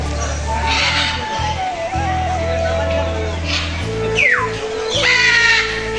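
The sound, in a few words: birds calling at a safari park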